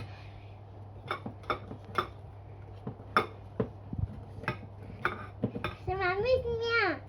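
A child stirs biscuit dough in a mixing bowl, with repeated clinks and scrapes of a utensil against the bowl at an irregular pace, close by, and a short burst of a voice near the end.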